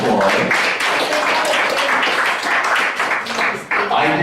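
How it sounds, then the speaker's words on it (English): Audience at a comedy show applauding a couple celebrating a long marriage, loud continuous clapping filling the room throughout with a brief dip near the end. "Give them a round of applause."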